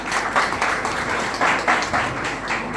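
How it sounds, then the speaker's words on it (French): Steady applause from an audience in a room, a dense wash of clapping with slight swells, moderately loud and continuous with no talking over it. "mon leader Rodrigue Niawa, que vous demande d'applaudir."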